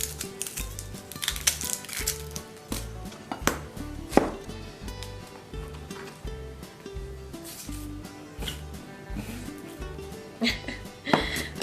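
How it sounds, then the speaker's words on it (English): A knife roughly chops a small onion on a cutting board in quick, uneven rhythmic thuds, close and fairly quiet, with faint kitchen background. "Alright, give this just a rough chop."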